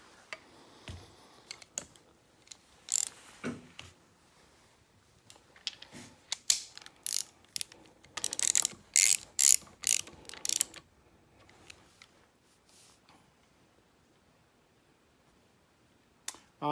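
A ratchet wrench snugging bolts on a Richmond Overdrive 6-speed transmission: irregular bursts of sharp metallic clicking, close and crisp, with a dense run of quick strokes in the middle and quiet gaps between.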